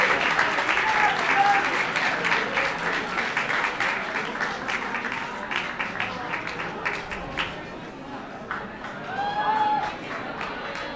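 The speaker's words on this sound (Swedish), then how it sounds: "En stor applåd!" A large audience at a beauty pageant final applauds, a dense sustained clapping that stays loud throughout and tapers slightly, with a few voices rising in the mix.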